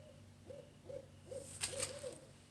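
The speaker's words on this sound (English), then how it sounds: "I hope y'all can hear that owl" An owl outdoors at night giving a series of soft, low hoots in a steady rhythm, distant and faint, with a brief higher chirp partway through.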